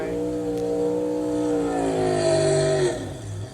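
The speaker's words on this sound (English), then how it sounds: "Kyle Busch is going to burn it down on the front straightaway" A NASCAR stock car does a burnout on the front straightaway after the Daytona 500. The engine revs with rising, sustained harmonic pitch that holds and then drops away, loud and alone.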